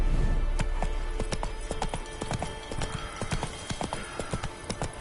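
Roach, the horse in The Witcher 3, gallops with rapid, rhythmic hoof clip-clops, loud and close, and a brief whinny-like tone sits under the beats.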